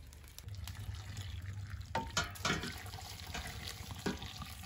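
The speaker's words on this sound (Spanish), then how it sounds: "Les voy a poner el agua que tenía aquí reservada hirviendo" Boiling water pours steadily into a cooking pot of tamales, with low rumbling beneath and a few clinks and splashes in the middle, moderately close.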